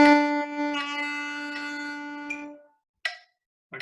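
A saxophone sustains a whole note on B with a slight vibrato wobble entering partway through, the tone ringing steadily for over two seconds before stopping, followed by short clicks.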